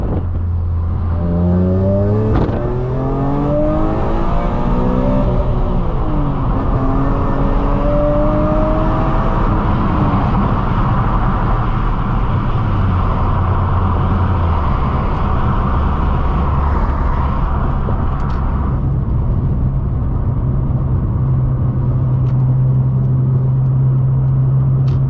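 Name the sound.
BMW E46 M3 CS engine while driving, windows down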